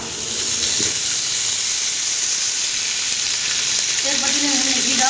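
Ghee heats in a pot for suji halwa with a steady, loud sizzling hiss throughout. Faint voices rise briefly near the start and toward the end.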